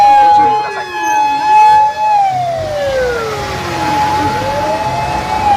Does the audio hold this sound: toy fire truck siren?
yes